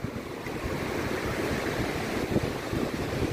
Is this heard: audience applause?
no